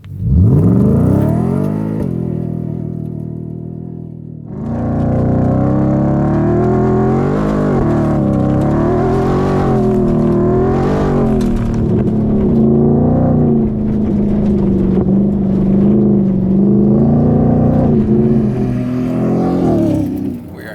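A 700 hp Ford Raptor R pickup launches hard from a stop on a dirt surface, its engine note rising steadily through the gears with a brief lull before surging again, loud and close for about twenty seconds.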